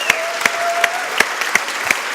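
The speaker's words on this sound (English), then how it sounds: "so I would give them a warm applause" Sparse, slow claps ring out at a design conference, about six separate hand claps spaced evenly apart over a faint hum, a thin scattered response from the audience rather than full applause.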